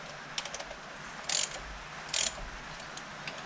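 Carburettor base bolts on a V8-swapped Hilux being tightened with a ratchet, giving two short bursts of rapid clicking against light clinks and a low background hum, close and fairly quiet.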